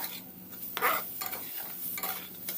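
A spoon stirs cocoa powder into chhana, cottage cheese, in a pan for chocolate sandesh, producing soft irregular scraping and shuffling strokes over a faint sizzle, close and alone without talk.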